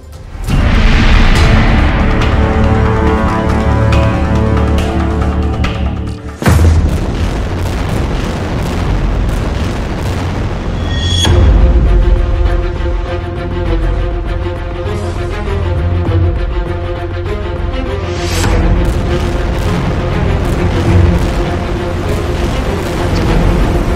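Heavy explosions from bombing in Gaza: loud deep booms and rumbling blasts, with sharp detonations at intervals amid a continuous roar of destruction.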